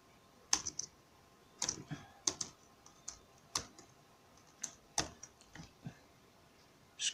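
A password being typed on a computer keyboard, heard as quiet, sparse, irregular key clicks with short pauses between strokes and nobody speaking.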